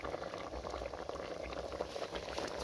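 Thai eel curry with vegetables boiling in a pot, a steady low bubbling and simmering, close and fairly quiet, continuous throughout without talk.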